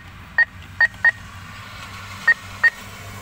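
Beeps from an ATM keypad as a phone number is typed in, five short, clear electronic tones at irregular intervals over a faint steady hum, with no talking.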